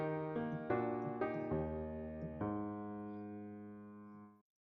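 Piano plays the fourth bar of a song as a few struck notes and chords that ring out and fade. It is heard close up and fairly quiet, with no talking.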